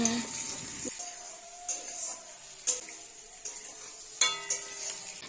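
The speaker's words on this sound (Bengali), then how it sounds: "পেঁয়াজটা মোটামুটি 30 সেকেন্ড বা এক মিনিট ভেজে তারপরে কিন্তু ক্যাপসিকাম দিয়ে দিয়েছি" Chopped onion and capsicum fry in hot oil for chilli chicken. A soft sizzle runs underneath while a utensil stirs and clinks against the pan in several sharp knocks, and a voice can be heard at times.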